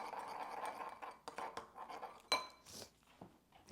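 A utensil scrapes and clinks against a bowl while cake batter sweetened with a packet of sugar substitute is stirred, giving irregular close taps and scratches, one sharp clink, and no voices.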